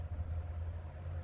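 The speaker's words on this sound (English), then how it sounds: "You can't see it, so that's the noise of the traffic." Traffic on a main highway beyond a backyard fence, a continuous low rumbling drone of passing vehicles heard from a distance.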